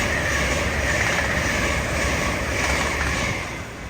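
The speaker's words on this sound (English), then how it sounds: "It's 801225 LNER catching me off guard." An LNER Class 801 train rushes past at Peterborough on the East Coast Main Line, a loud, steady roar of wheels and rushing air that eases slightly toward the end.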